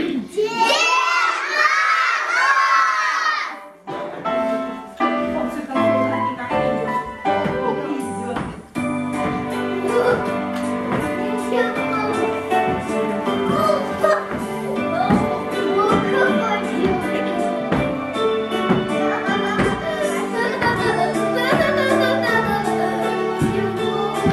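A crowd of children at a kindergarten New Year party shouting loudly together in a sustained, energetic cheer, with an adult voice briefly at the start and festive background music carrying on throughout.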